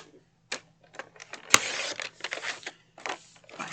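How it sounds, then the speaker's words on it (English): White paper mat being cut to size for a card, heard as a sharp snap followed by a run of irregular crisp scraping and slicing sounds, close and fairly quiet, with no talk. "I'm going to take my white mat and I'm going to cut that at 5"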